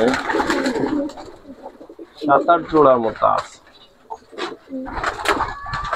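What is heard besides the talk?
pigeons cooing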